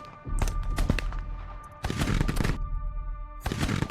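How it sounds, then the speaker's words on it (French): Bursts of rapid gunfire rattle out in several volleys down a corridor, loud and echoing, with brief gaps between them and no voices. "tu entends des coups de feu au bout du couloir."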